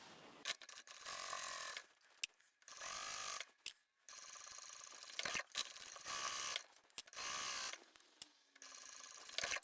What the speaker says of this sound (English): Now we can sew the red strips.